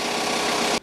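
A repaired boat outboard motor, with a new spark plug and a tightened wire, runs with a loud, close, steady buzzing drone that cuts off abruptly just before the end.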